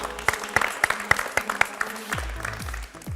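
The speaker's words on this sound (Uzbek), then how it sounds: "Qarsakalaringiz." Scattered applause in a team game for the Eagles team, a sparse run of separate claps from a small group at fairly close range, tapering off toward the end.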